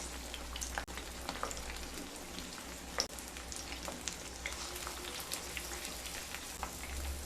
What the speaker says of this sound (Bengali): তেল গরম হয়ে গেলে দুটো বড় সাইজের কেটে রাখা বেগুন দিয়ে দেব। সাথে দিয়ে দেব দুটো ছোট সাইজের কেটে রাখা টমেটো।